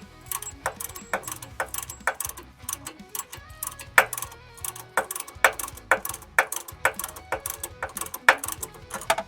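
A ratchet tightens the top 13 mm nut on a rear sway bar end link of a Toyota 4Runner, with rapid clicking bursts repeating in close, loud runs and short pauses between strokes.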